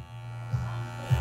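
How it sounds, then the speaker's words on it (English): An electric hair clipper buzzes steadily while trimming a beard during a barbershop cut, a close, even hum that thickens briefly twice as the blade meets hair. "It steadies the clipper a little bit easier as well."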